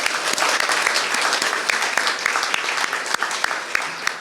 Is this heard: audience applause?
yes